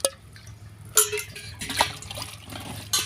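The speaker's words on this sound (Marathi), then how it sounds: "आता याच्यामध्ये पाणी टाकलं" Water splashes and trickles into a metal cooking pot on an outdoor wood-fired stove in a few short pours, with a brief gap between bursts, close by and fairly loud.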